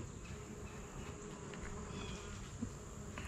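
A honeybee colony in a horizontal hive hums with a soft, steady buzz during an inspection, faint and continuous, with occasional individual bees droning past and no talking.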